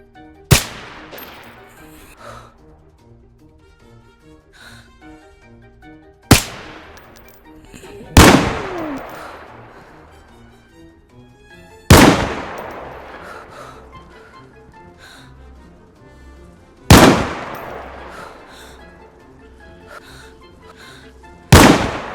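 In the video game DayZ, loud gunshots and explosions go off one at a time at irregular intervals, each sharp crack trailing into a decaying rumble and separated by quieter stretches of background game sound.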